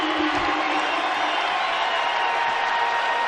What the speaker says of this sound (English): the crowd's going crazy. Bonkers as they got inside ExtraMile Arena